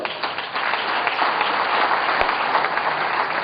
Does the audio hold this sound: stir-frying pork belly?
no